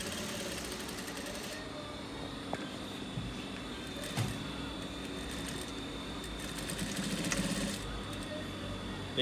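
A sewing machine stitching cargo shorts fabric, a steady close mechanical whir running without a break with faint clicks under it.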